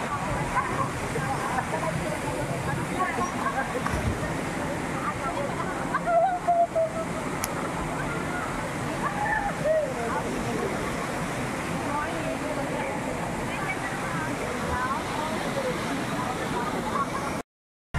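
Bolinao Falls 2 pours in a steady, dense rush of falling water that fills the whole stretch, with people talking and calling faintly over the roar.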